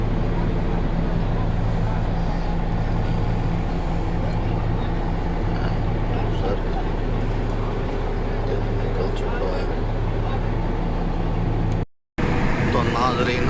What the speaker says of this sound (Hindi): हम रोड पे हैं इसलिए आवाज़ की मुश्किल हो रही है